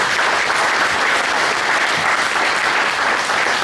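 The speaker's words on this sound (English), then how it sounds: "Let's give the city of Lawrence a round of applause." An audience at a football touchdown club meeting claps in a dense, steady round of applause that holds at an even level throughout.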